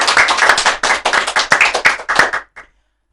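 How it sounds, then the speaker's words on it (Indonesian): A crowd at a podcast recording claps steadily for a couple of seconds, loud and close, then the applause stops abruptly with one last clap. "Tepuk tangan dong untuk podcast Meta Kreatif"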